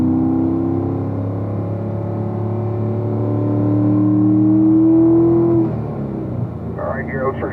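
Corvette race cars circling the Spring Mountain track during a racing session, a steady droning engine note rising in pitch then dropping away as they pass, with a voice briefly heard near the end.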